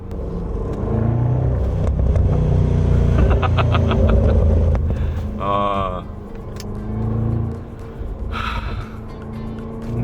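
A Range Rover Sport SVR with a 5.0-litre supercharged V8 revs hard to about 3500 rpm, with several bursts of crackling exhaust pops as the throttle lifts, over a loud engine rumble.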